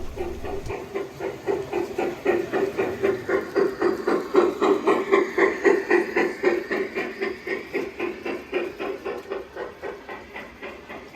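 A small Bachmann mogul model steam locomotive chuffs steadily along an outdoor garden railroad track, rhythmic puffs repeating evenly with a soft hiss, close by and loud throughout.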